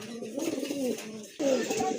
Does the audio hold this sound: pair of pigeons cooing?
yes